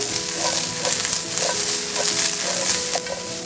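Rough chopped onions fry in olive oil in a pan, a dense continuous sizzle with periodic scraping stirs about every half second, close and steady.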